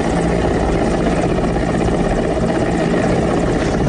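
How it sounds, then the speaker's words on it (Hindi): Indian Air Force Mi-17 helicopter during a flood rescue at a dam in heavy rain, a loud, continuous rotor and engine roar with rhythmic blade chop, close and steady throughout. "भारी बारिश के बीच इंडियन एयरफोर्स का हेलीकॉप्टर MI-17 देवदूत बनकर प्रकट हुआ।"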